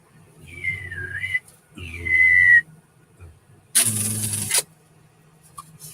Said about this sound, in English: I got all these whistle things, 8 of them or 10 of them. Not whistles, little party things.